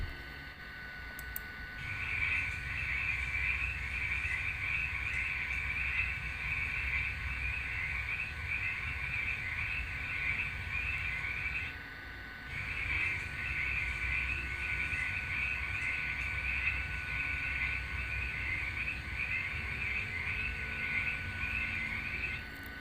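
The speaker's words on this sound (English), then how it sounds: "It's a frog." A frog gives two long, rapid rattling croak trills, each lasting about ten seconds with a brief pause between, steady and fairly close against a quiet outdoor background.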